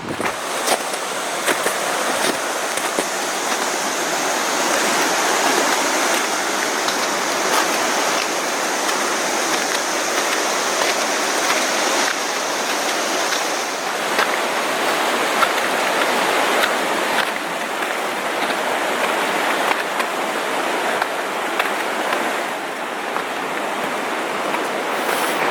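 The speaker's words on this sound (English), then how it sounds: "Coming up to Little Qualicum River." The Little Qualicum River rushes steadily in a continuous broadband wash, close and fairly loud, with no voices over it.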